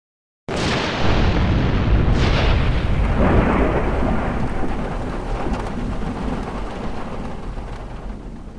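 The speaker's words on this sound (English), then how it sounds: "Vancouver Island was rocked by gale-force winds and torrential rain" Heavy thunder cracks open a gale-force storm on Vancouver Island, rolling into loud, torrential rain that roars steadily without a break.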